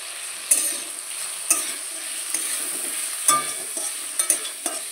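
Potato pieces seasoned with salt and turmeric fry in a pan, a close, continuous sizzle broken by several sharp spoon scrapes and stirring knocks.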